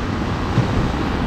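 Strong sea waves churn at a rocky fishing shore in Aurora, a loud, continuous roar of surf mixed with gusty wind buffeting the microphone.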